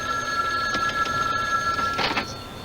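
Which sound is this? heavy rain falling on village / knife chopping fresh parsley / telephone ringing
telephone ringing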